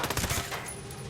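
Sniper rifle fire in the Ghost Recon Breakpoint video game: a loud, close burst of gunfire with a crackling, rapid attack that quickly fades into a ringing tail.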